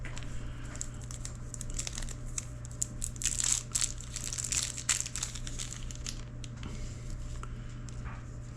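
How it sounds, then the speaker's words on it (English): Cellophane wrapper being peeled off and crinkled by hand, a close, continuous crackling rustle with sharper crinkle bursts in the middle, faint over a steady low electrical hum. "Should I take them out of the wrapper to show a little bit?"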